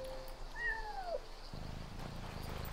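In the video game Yonder: The Cloud Catcher Chronicles, a cat gives a single drawn-out meow with a falling pitch, clear but fairly quiet against soft ambient game music, with no talk over it.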